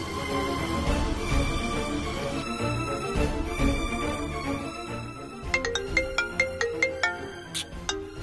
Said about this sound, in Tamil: சஞ்சீவ்க்கு ஃபோன் பண்ணலாம்.